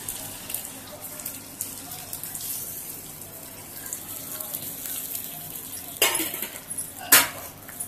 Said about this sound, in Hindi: अब इसमें डालेंगे एक गिलास पानी।